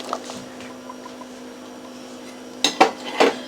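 Chunks of butternut squash go into a pot of Caribbean fish tea stew, giving a few sharp metallic clanks and knocks against the pot near the end after a quiet stretch.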